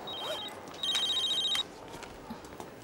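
A telephone rings in short electronic bursts, one brief ring then a longer warbling ring, fairly faint in a quiet room with no talking.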